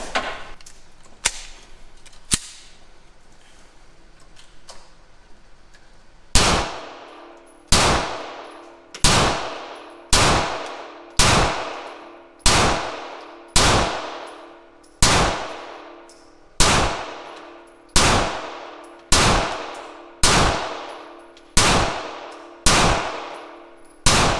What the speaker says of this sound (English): we're gonna run a Staccato mag through it, another 20.